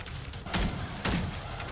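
Enemies bursting into explosions in the roguelite shooter Hellbreak, two broad booming blasts about half a second apart over a steady bed of game noise.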